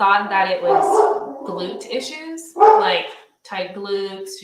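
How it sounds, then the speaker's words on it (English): A pet dog barks and yips intermittently in the background of an indoor room while a person talks over it, the barks short and mid-distance. "excuse my dog barking"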